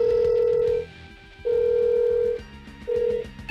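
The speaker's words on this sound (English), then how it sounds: "I will make phone call." A telephone rings on the line while a phone call is being placed, giving three steady electronic ring tones separated by short pauses, loud and close with no talking.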